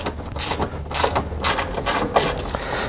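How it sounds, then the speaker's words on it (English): A ratchet wrench clicks in quick repeated bursts while backing out a 10mm bolt during a RZR amp plate install, close and clear with no speech. "On the top right here, we've got another 10mm bolt that we're going to disconnect."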